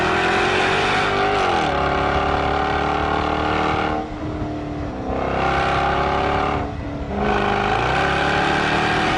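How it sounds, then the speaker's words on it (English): A 2013 Jaguar F-Type convertible's V8 roars loud and close, revving hard through a run of rising pulls with brief dips between gear changes. "I then got in the V8 and I need this noise in my life."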